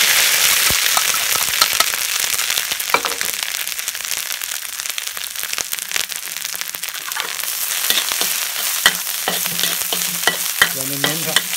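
Fresh chili and spices stir-frying in a pan for a Thai fish larb made with carp, a continuous close sizzle broken by scattered crackles and scraping stirs.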